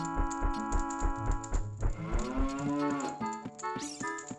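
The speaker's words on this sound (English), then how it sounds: "I just like cows." Cow lowing in a Zelda video game, a loud drawn-out moo over a rhythmic game music loop with bells and plucked notes, no talk.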